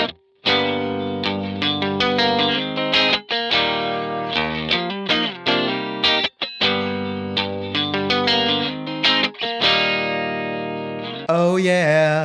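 Fender American Original '60s Jaguar electric guitar on the neck pickup with the strangle switch engaged, giving a thin, bright tone, plays a busy run of notes and chords, loud and close with no talking.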